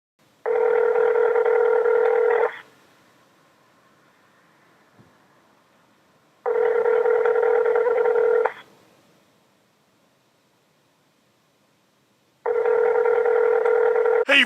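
Telephone ringback tone heard while a call is being connected: three long, steady electronic rings, each about two seconds, separated by quiet pauses, clear and alone.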